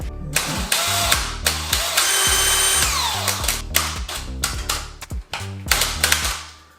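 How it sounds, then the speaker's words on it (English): Repeated short bursts of a power drill with a 4mm bit whirring, starting and stopping in quick succession, loud and close with sharp clattering between bursts. "I'm taking my drill, 4mm."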